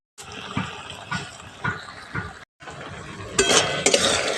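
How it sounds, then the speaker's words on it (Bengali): Spoon stirring drumstick flower curry (sojne phuler chorchori) in a pan to dry it out, with repeated scraping strokes and clinks against the metal, close and fairly loud, no talking. "এইভাবে একটু নাড়াচাড়া করতে করতেই এটা জলটা শুকনো হয়ে যাবে।"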